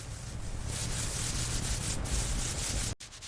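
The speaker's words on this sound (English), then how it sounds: "Hand sanding every inch for laser straight panels." Continuous hand sanding rasps back and forth against a Mercedes 300SL Gullwing body panel in quick, rhythmic strokes, close and alone, stopping abruptly near the end.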